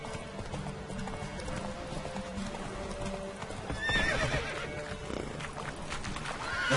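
Roach, the horse in the video game The Witcher 3, trots with steady clip-clop hoofbeats and lets out a neigh partway through, over a busy game soundscape.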